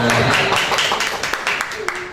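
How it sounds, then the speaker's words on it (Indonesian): Children at a motivational seminar clap their hands in a burst of sharp, close claps that thin out and fade toward the end, mixed with voices. "Tepuk tangan anak-anak"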